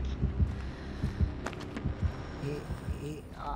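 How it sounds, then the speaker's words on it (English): Thumping heartbeat effect from a video game, steady low double pulses repeating throughout under an ambient hum, with a player talking faintly over it. "I got a heartbeat."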